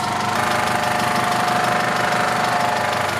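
A Honda S2000 engine idles just after starting, with a steady, moderately loud mechanical rumble and a fine, even ticking pulse throughout, close up with no talk.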